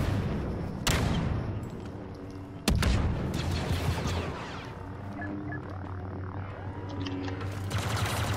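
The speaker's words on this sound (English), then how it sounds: "Stop shooting him." Gunfire in a two-on-two video game round, with two sharp loud shots followed by a rumbling, booming wash of distant fire and ringing tones that fade over several seconds. No voices are heard.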